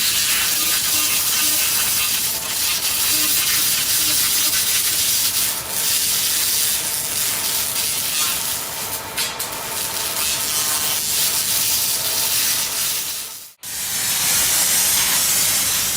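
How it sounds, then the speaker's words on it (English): A laser strips paint from wood with a loud, steady broadband hiss and crackle, holding constant apart from a brief dip and a sudden cut near the end. "Watch as a laser effortlessly strips paint from wood with precision and no mess."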